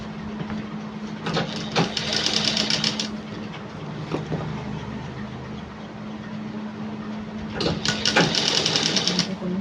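A home sewing machine stitches a collar piece onto a garment in a steady mechanical whir, with brief faster bursts of stitching near the start and end, close and fairly loud.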